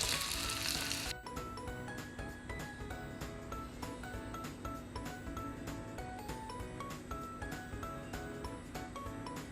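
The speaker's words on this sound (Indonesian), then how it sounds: "Ini kita goreng 3 dulu aja." Breaded ebi furai shrimp fry in hot oil, three pieces at a time, a loud burst of sizzle as they go in settling into a steady crackling bubble with sharp pops.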